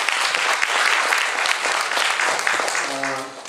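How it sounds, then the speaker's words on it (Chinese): An audience at a health lecture applauds to welcome a professor, a dense burst of clapping that stays full for a few seconds and then tapers off. "请大家掌声欢迎"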